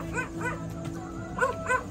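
A dog barks in short yipping bursts, a pair near the start and another pair near the end, over a steady background hum.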